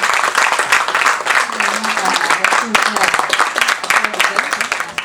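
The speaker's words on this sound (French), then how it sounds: "Donc, applaudissez encore pour vous." An audience applauds continuously at a French-language digital conference recap event, the clapping dense and loud throughout, with music playing underneath.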